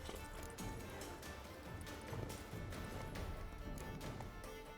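In The Witcher 3 video game, a horse gallops with a fast, steady clip-clop of hooves, the rhythmic beats continuing throughout at a low, even level with no speech.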